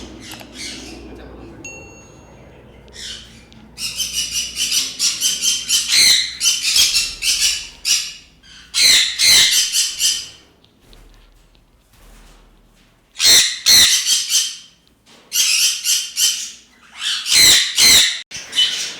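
Sun conures at an exotic bird farm give loud, shrill squawks in repeated bursts, some close and piercing, with short quiet gaps between the calls.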